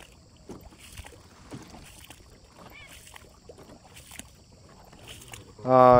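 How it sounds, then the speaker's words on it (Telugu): A wooden fishing boat is paddled across open water, with soft, faint strokes and light wind noise, low murmuring voices in the background, and a loud, abrupt burst of sound at the very end. "ఈ సల్లు ఆ గ్లౌజ్ కూడా లేకుండా పడవ ఎట్లు తోలుతుందో ఏమో"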